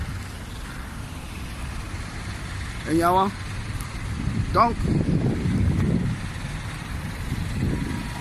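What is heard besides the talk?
road traffic passing by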